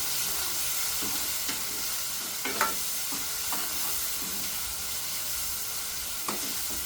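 Chopped coriander stirred through a frying capsicum and tomato curry in a pan, a steady close sizzle under repeated spoon scrapes and occasional clicks against the metal.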